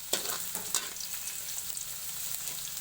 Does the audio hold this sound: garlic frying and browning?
yes